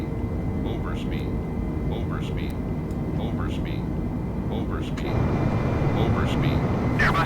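Airbus airliner engines drone steadily in Microsoft Flight Simulator as the throttle is lowered during climb, a continuous low rumble under frequent radio-style speech and chatter.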